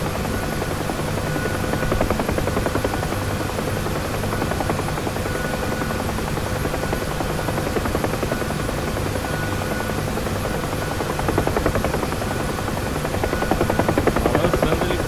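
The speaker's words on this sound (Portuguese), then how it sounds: "Tá lançando helicóptero aqui." A UH-1H Huey helicopter in the DCS flight simulator, its rotor producing a steady, dense thumping whir that stays loud and even throughout, with no talking.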